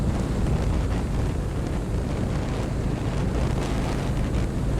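Wind roars steadily into the microphone of a Harley-Davidson Road King motorcycle out on the road, a loud, continuous, even rush with the engine buried underneath.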